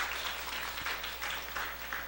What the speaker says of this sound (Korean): 우리 장로님께 큰 박수 부탁드리도록 하겠습니다.